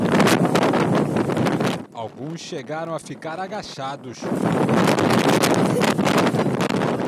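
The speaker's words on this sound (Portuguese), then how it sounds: "No Cristo Redentor, a forte ventania deixou visitantes assustados." Strong gusty wind buffets the microphone at Christ the Redeemer in Rio de Janeiro, loud roaring blasts at the start and end with a brief lull where a voice speaks.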